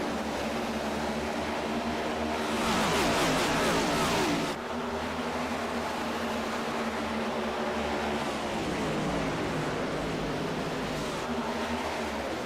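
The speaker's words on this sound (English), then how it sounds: "As the cars begin to roar to life down the backstretch, finally getting up to speed" Race cars in a sim racing game at Indianapolis accelerate down the backstretch, producing a continuous, loud engine roar that swells briefly and then holds steady as the field gets up to speed, with no talk over it.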